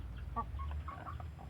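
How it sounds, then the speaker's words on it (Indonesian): A sick chicken with snoring, rattling breath makes short, faint gurgling clucks that repeat irregularly over a low background hum. "mengenai ayam yang sedang ngorok."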